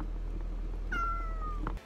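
A cat in a Japanese Pizza Hut commercial gives a single clear, drawn-out meow that slides slightly downward, close and distinct over a low steady hum before the sound cuts off.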